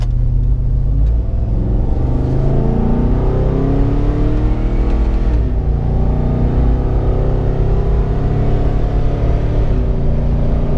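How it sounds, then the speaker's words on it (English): A car engine pulls steadily uphill under load through a 6L80 automatic transmission, its drone rising in pitch through a long gear before a brief dip and climbing again, loud and close. "there's quite a bit of time in each gear where the engine is pulling"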